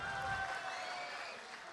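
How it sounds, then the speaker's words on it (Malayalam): Audience applause at a Malayalam comedy stage show, a broad, steady patter of many hands that fades slightly toward the end, with a faint tonal hum behind it. "ഖാദറിന് നല്ല ഒരു കയ്യടി"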